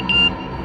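A single steady electronic beep from a phone's message notification, lasting about a fifth of a second, sounding close and clear over a low background hum.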